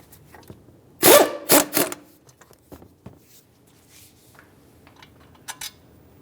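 Metal clanks and a ratcheting burst from removing the brake caliper bracket bolts on a 2006-2012 Ford Fusion front wheel hub, a loud cluster near one to two seconds, then faint scattered taps and a brief clink near the end.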